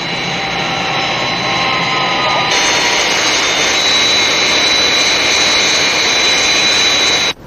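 The Sky Thrust aircraft climbs after takeoff with a loud, steady jet-engine roar and high whine. The pitch shifts partway through, then the sound cuts off abruptly, with no clear talking.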